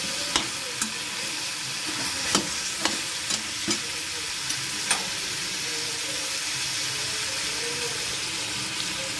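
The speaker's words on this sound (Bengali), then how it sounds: "মাংসটা দিয়ে এবার নেড়ে নিচ্ছে" Steady sizzling of chicken frying in a pan with a little salt, with a spoon scraping and knocking against it every second or so, close and fairly loud.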